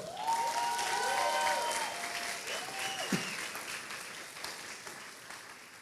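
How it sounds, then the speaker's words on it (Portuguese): Church congregation applauding a woman named Dani, moderate clapping from the crowd under sustained musical tones, fading gradually after a few seconds. "vamos aplaudir a Dani, né?"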